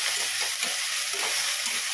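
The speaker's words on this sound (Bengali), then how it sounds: "দেখো শাকটা দিয়ে দিলাম।" Leafy greens sizzle and crackle steadily in hot oil in a home kitchen pan, a dense continuous frying hiss with faint stirring, close and alone with no voices.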